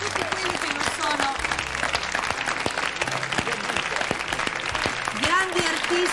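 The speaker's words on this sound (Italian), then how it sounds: "Facciamo un bel applauso." A hall audience gives a sustained round of applause for a singer during a tribute show; thick, continuous clapping at strong volume, with crowd voices mixed in throughout.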